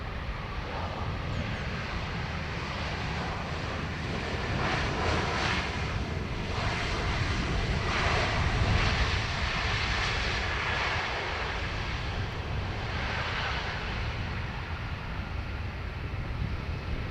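A Ryanair airliner on approach to Dublin Airport gives a steady, broad jet engine roar that swells slightly midway, with some wind noise and no talking.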